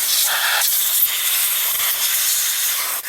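A strong, steady spray of compressed air hisses through a desktop PC fitted with an NVIDIA GTX 1660 graphics card, blowing dust from the case in one continuous blast that fades only at the very end.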